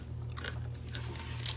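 Someone bites and chews crunchy candied roasted pumpkin seeds close to the mic, giving a few quiet crunches over a low background hum with no talking.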